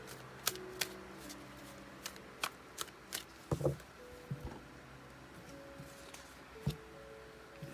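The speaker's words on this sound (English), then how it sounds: "sometimes the shuffling takes longer than other times" Tarot cards shuffled by hand: a series of sharp, close riffling snaps and soft flicks at irregular intervals, with quiet gaps between them and no talking.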